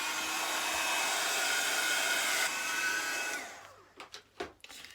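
A hair dryer blows steadily and loudly over ink on a faux watercolour painting for about three and a half seconds, then cuts off, leaving a few soft knocks and handling sounds.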